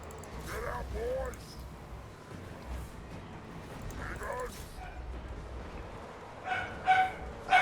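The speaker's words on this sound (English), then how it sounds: "Oh, there goes the dog." Barking from a dog unit in a Warhammer fantasy battle game, a few short yips rising out of a busy bed of battle noise and game effects, with someone talking over much of it.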